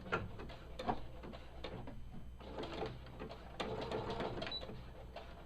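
A sewing machine stitches fabric for a dust cover for a Cricut or printer, a steady quiet mechanical whir with fine rapid ticking of the needle, heard close with a few brief pauses and small handling bumps.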